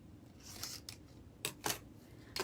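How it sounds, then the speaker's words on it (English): Scissors snip off elf decorations for a Christmas deco mesh wreath, giving a few quiet, sharp crisp cuts spaced apart, two close together near the end, with no talk over them. "So let's cut these off."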